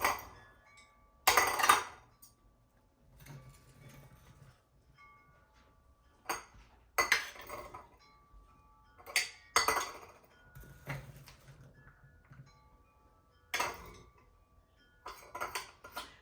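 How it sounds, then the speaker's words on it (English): Chopped onion, two large onions' worth, is spooned into glass canning jars for raw-pack chicken fajitas, giving several sharp clinks and clatters spaced across the clip with quiet gaps between. "And then about a half a cup of onion to each jar."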